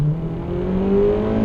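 Turbocharged NC Mazda MX-5 running a BorgWarner 6758 at about 11 psi, revving hard with a rising engine note through quick upshifts, loud and close with no talking.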